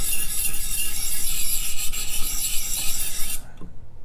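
A ZT Hinderer Slicer 0562 knife edge grinding along a sharpening stone in one long, loud, close raspy stroke that stops abruptly near the end, leaving near silence.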